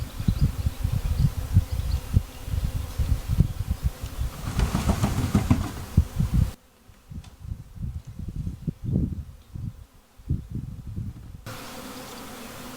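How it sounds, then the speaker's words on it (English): A swarm of honeybees shaken into a box hums and buzzes continuously, loud and close at first, then thinner and more scattered as individual bees drone past. "The bees are going to be flying around."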